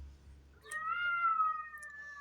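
One clear, prolonged cat meow in a garden in Turkey, steady and plaintive, sounding fairly close in a quiet setting.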